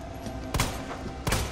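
Two sharp gunshots from a handgun in the Resident Evil 2 video game, spaced under a second apart, fairly quiet over a low background hum.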